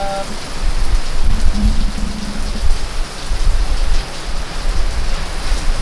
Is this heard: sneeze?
no